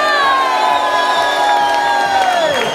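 A crowd of roughly 300 to 400 people cheers and whoops for the field target air rifle world champion at the World Field Target Championships, a loud, sustained roar with high shouts throughout and no speech.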